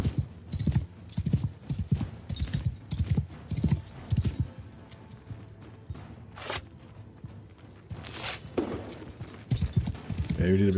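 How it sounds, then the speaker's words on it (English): Horse hooves clip-clopping at a gallop in the Old Realms mod video game, a steady rapid pounding rhythm mixed with battle noise and creaks, heard fairly close. "my horse barely rides faster than they do"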